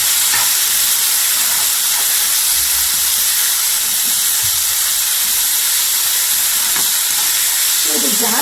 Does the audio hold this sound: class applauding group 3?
no